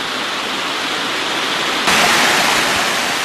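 Loud rushing water of the Virgin River in Zion Canyon, a dense, continuous roar close by that swells abruptly louder partway through.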